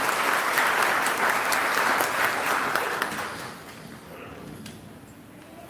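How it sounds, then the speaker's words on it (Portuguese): Sustained applause from a Catholic church congregation during a Portuguese-language sermon, thick and even at first, then thinning and fading over the last few seconds. "Vamos aplaudir nossa irmã."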